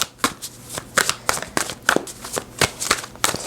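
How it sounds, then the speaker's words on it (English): Tarot cards being shuffled and pulled from the deck, a close run of crisp flicking riffs and soft card slaps in an uneven rhythm, with no talking. "I'm feeling guided to pull another one of these cards."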